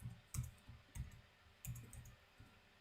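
Sparse keyboard typing on a computer during a live coding stream, a few soft irregular keystroke clicks and thumps spaced through a quiet, close background.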